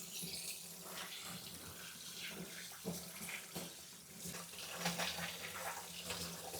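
Tap water runs steadily into a sink while fish are washed, a continuous close splashing stream with small bumps and clatters through it and no voices.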